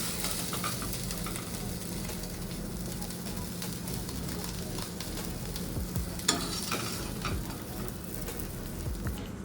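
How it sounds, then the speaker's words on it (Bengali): Small puti fish fry in hot oil in a pan with a dense, continuous sizzle and crackle, punctuated by occasional clinks and scrapes of stirring, close by and with no talk. "আমি একে একে ভেজে নিচ্ছি। এখানে আপনারা দেখতে পাচ্ছেন একটু 2-3 মিনিট সময় দিলেই কিন্তু মাছগুলো সম্পূর্ণ ভাজা হয়ে যাবে।"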